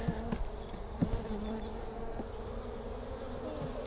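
Honey bees buzz around a row of hives in a continuous, dense drone, with individual bees zipping close past now and then.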